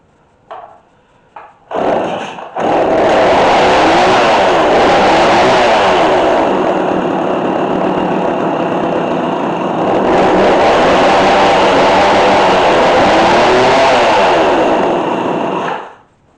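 A McCulloch Mac3216 32cc chainsaw with a 16-inch bar coughs and catches after a couple of brief pops, then runs loud and steady for about fourteen seconds with a slight wavering pitch before cutting off.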